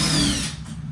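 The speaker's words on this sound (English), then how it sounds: "So just put your screwdriver in there, or your impact, whichever one you want." A power impact driver whirs briefly while backing screws out of a doorknob on a door being repaired, a short loud buzzing burst that fades quickly.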